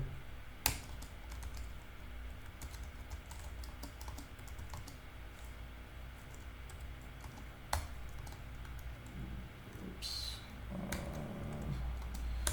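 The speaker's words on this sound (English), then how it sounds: "still getting used to this keyboard. It's a new keyboard for me." Rapid keystrokes clatter on a new computer keyboard during coding, a close and steady run of clicks with a few sharper taps, and a brief spoken word near the end.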